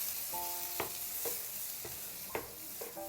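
Vegetables with tomato frying in a pan for pav bhaji hiss steadily while a utensil scrapes and stirs in several distinct strokes, close and moderately loud.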